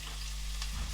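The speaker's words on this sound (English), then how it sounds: "got some oil heating up in the pan there, just on a medium heat, and some nice chunky onions going in there" Chunky onions frying in oil in a pan over medium heat for a chickpea curry give a steady, close sizzle with faint stirring, no voices.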